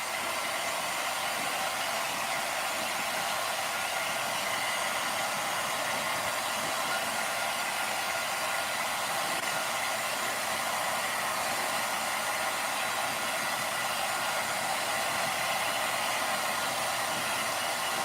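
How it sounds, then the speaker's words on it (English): A regular handheld blow dryer blasting air over a doll's hair, a loud, constant whooshing roar that holds steady and unbroken throughout, with no voices. "you can blow dry it with a regular blow dryer"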